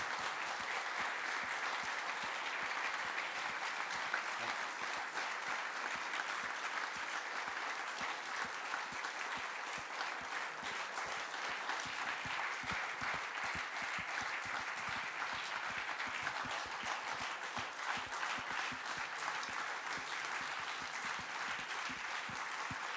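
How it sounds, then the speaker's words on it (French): A room full of people gives Jacques Bolle a long, sustained standing ovation at a press conference, dense continuous clapping that holds steady for over twenty seconds, heard from a distance and fairly quiet. "une dernière ovation pour Jacques Boll"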